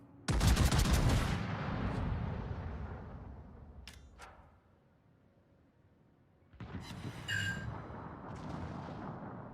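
Naval guns firing in World of Warships, heard as two loud, rumbling bursts of salvo fire with crackling edges, split by a short quiet stretch with a couple of sharp cracks.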